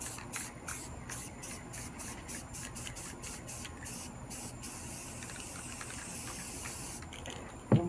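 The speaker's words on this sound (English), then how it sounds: "Then around that, you want to spray with black." A spray can hisses in a rapid series of short bursts, then settles into a longer continuous spray, close and fairly loud.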